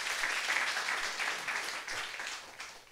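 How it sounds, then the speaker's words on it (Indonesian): Congregation applauding at an evening prayer worship service, a dense sustained wash of many hands clapping steadily throughout, moderately loud with no talk over it. "Tepuk tangannya paling meriah buat Yesus."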